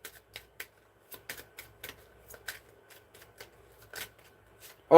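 A tarot deck is shuffled by hand for a reading spread, heard as quick irregular riffling snaps and flicks close up and fairly crisp, with no voice over them.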